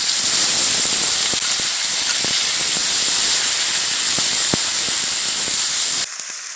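Onion paste dropped into hot oil in a pan after frying hilsa fish, a loud, close, continuous hissing sizzle with faint scattered ticks, cutting off abruptly near the end.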